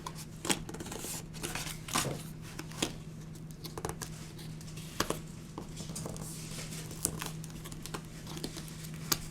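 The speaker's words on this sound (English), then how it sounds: "We'll go ahead and fold in these sides." Paper folded by hand for a mini book-style gift craft, quiet close crinkles and sharp creasing taps scattered irregularly over a faint steady hum, with no talk.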